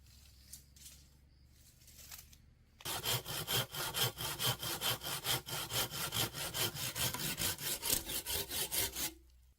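Timber floor joists for an off-grid log cabin are cut with a hand saw after a few quiet knocks: a brisk, rhythmic run of loud rasping strokes, close by and with no voices.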